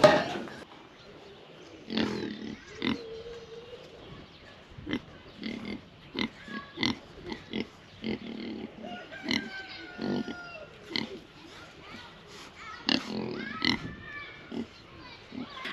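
Pigs on a farm grunt and oink in short, repeated bursts, some close and loud, others softer, spread unevenly over quiet background with no clear talking.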